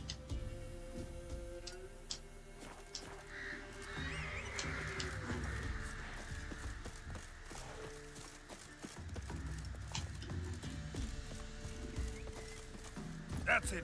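Roach, a horse in The Witcher 3, clip-clops along with steady hoofbeats and gives a neigh amid ambient game sounds, moderately loud and continuous.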